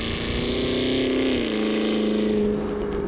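Cadillac Escalade-V, a 2023 SUV, lets out a loud, close exhaust roar that holds a steady drone, then drops in pitch midway as the revs ease, continuing as a deep sustained rumble with no talk.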